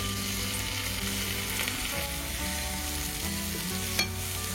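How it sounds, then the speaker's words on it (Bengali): Mutton pieces and browned onions fry in a pan for a Kabuli pulao, giving a steady close sizzle with light stirring scrapes and a brief clink near the end, with no talking. "সেই মাংসটা এবার পেঁয়াজের মধ্যে দিয়ে দেবো।"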